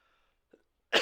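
A single short, sharp sneeze bursts out at the very end after near silence and a faint tiny sound, close and fairly loud.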